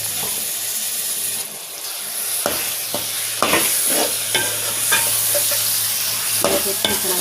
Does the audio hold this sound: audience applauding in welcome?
no